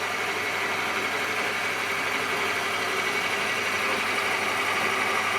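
Metal lathe on a first test run with a newly built steady rest, spinning stock with slight vibration, a steady even mechanical hum and whir held at constant loudness, close by and with no talking.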